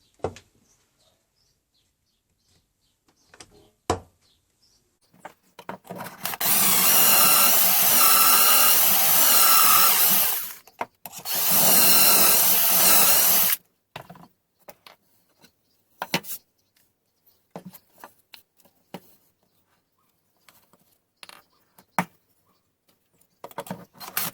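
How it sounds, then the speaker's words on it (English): A power drill bores pocket holes and drives screws to fasten rails on a wooden book rack, with two loud sustained whirring bursts separated by a brief pause, then scattered clicks and handling knocks in a quiet room. "To attach these rails, I'm using pocket holes."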